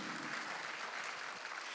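A church congregation claps together during a Sunday worship service, a steady, dense wash of hands filling the whole moment at an even level with no voices on top.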